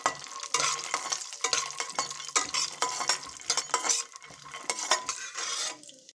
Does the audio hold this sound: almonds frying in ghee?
yes